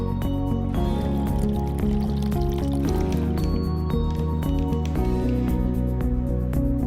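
Tap water pouring steadily into a container, a continuous close filling gurgle with small drips and splashes throughout, with no voices.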